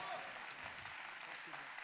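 Audience applause at a science-communication competition final, a steady broadband wash of clapping filling the hall throughout, with a voice faintly mixed in.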